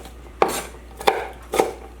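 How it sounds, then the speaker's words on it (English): A kitchen knife chops an onion on a cutting board: three crisp, separate chops about half a second apart, each followed by a short scrape, close up and with no talking. "So I just finished chopping my onion, and I already have 1 cup."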